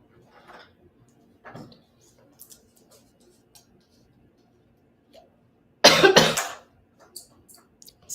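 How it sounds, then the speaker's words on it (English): A woman coughs once in a loud, harsh burst during a live art session, with a few faint ticks and small handling sounds around it in an otherwise quiet room. "Sorry, I'm coughing."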